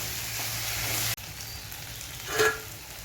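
Potato and pointed gourd slices fry with mustard-poppy paste, green chilli and sugar in a pan, making a steady close sizzle that drops abruptly quieter partway, followed by a soft stir or clink.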